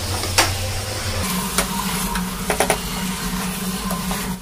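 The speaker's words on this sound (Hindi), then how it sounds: "अब मटन को हम अच्छी तरह से भून लेंगे, प्याज के अंदर अच्छे से हम भूनेंगे" Mutton fries with onions in a pan for Afghani Kabuli pulao, giving a continuous sizzle. Several sharp clinks and scrapes from stirring sound close and loud, with no talk.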